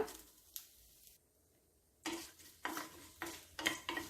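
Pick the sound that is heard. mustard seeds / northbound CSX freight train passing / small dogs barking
mustard seeds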